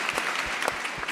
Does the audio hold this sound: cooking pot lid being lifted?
no